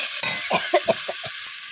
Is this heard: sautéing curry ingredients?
yes